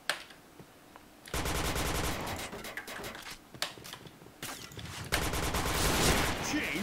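Rapid automatic gunfire bursts from the video game Point Blank, several sustained volleys separated by short pauses, loud and close.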